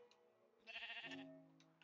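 A sheep bleats in the video game Minecraft, one short wavering bleat at moderate loudness, with faint game ticks around it and no talk.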